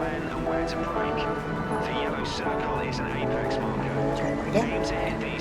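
Race car in Project Cars 3 driven flat out and stuck in fourth gear, its engine droning steadily at high revs with brief tire squeal, loud and close throughout.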